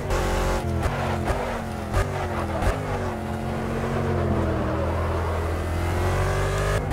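Race car engines in an online racing video game, including a Z4 GT3 and a Corvette, rev steadily and loudly, with gear shifts stepping the pitch up and down and no pause in the sound.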